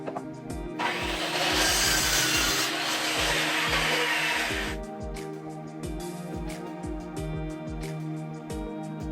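A hand saw cuts a wooden rail for a magazine rack with steady back-and-forth rasping strokes. The sound is close and loud, with a dense stretch of fast sawing followed by slower, distinct strokes.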